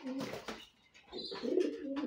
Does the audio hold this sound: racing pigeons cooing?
yes